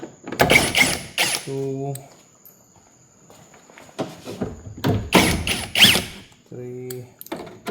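A hand ratchet loosens the bumper bolts on a Volkswagen Passat CC, giving two short bursts of close clicking a few seconds apart, with someone talking in between.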